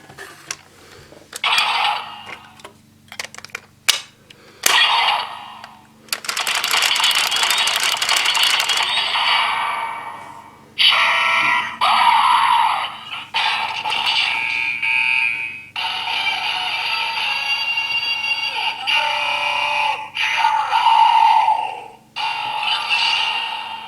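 Whirring, ratcheting electronic toy effects with buzzing bursts and warbling tones, starting and stopping in spurts, loud and close with brief gaps between.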